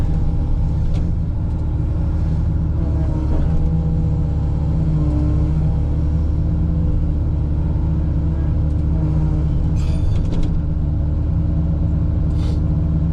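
A truck engine strains steadily while pulling a homemade root rake, a loud, sustained low rumble with slight revving shifts throughout.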